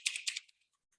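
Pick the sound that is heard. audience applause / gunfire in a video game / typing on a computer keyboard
typing on a computer keyboard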